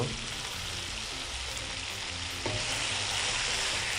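Betel leaf chicken fry, Andhra-style chicken vepudu, cooks in a pan with a loud, steady sizzle and fry that holds even throughout, with a slight stirring scrape near the middle and no talk.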